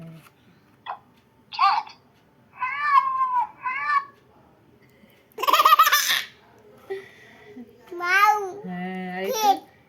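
A cat meow plays from a children's learning toy in short electronic bursts, mixed with a baby's babbling, giggles and adult chatter close by.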